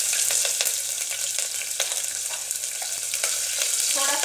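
Cumin seeds and finely chopped green chillies frying in hot oil for an Indian-style masala macaroni, a steady loud crackling sizzle with sharp pops and spatters throughout, heard up close with no talking.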